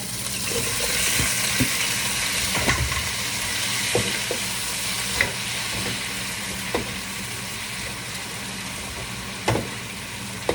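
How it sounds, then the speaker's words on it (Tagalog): Sliced bottle gourd (upo) sautéing in a hot pan, with a steady sizzle and frying hiss. A spoon scrapes and taps against the pan at intervals while the vegetables are stirred, close and fairly loud, with no talking. "Haluin muna natin."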